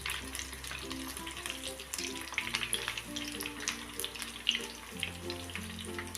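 Chicken lollipops frying gently in oil over a low flame, a soft, steady sizzle with faint crackles and some tap-like watery hiss running throughout, no voices.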